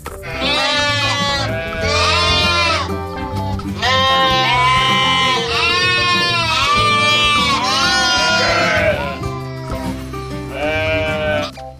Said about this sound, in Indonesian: lihat di sini ada domba teman-teman